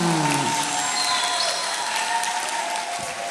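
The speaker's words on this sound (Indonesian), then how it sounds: "Tepuk tangan untuk kita semua." Audience applause in a school hall after an anti-bullying chant, a dense steady patter of many hands clapping at moderate volume that tapers slightly toward the end, with a brief voice at the start.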